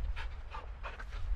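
Caged dog in the Modern Warfare 2 campaign panting quietly, a steady run of quick rhythmic breaths heard up close on its own.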